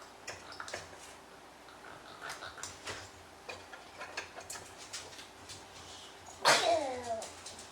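A single sharp sneeze bursts out near the end, close and loud, after quiet ticking and small kitchen sounds.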